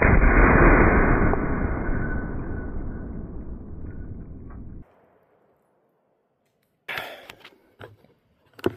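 A 7.62x54R rifle round strikes an AR-400 steel plate outdoors with one loud blast that decays over several seconds, followed by silence and then a few brief knocks and rustles.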